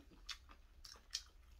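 Quiet close-up chewing of a thawed frozen Korean shrimp skewer jeon pancake, a few soft crisp bites and mouth sounds over about two seconds with no talking.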